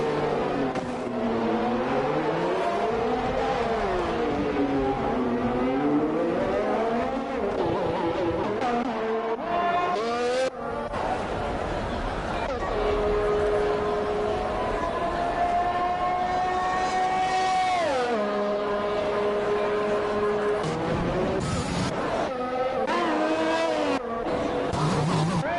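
Race cars circling the Abu Dhabi circuit in a sim racing league game, engines whining and shifting pitch continuously as several cars pass and change gear, loud and steady throughout with no talk.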